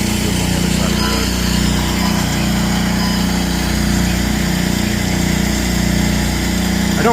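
A crop-spraying airplane engine runs loud and steady nearby, a continuous droning hum with a slight wavering pulse and no break.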